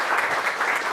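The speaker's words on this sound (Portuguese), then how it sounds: "uma salva de palmas para a Cibele" An audience at a general assembly meeting claps in dense, steady applause, close and fairly loud for a brief moment.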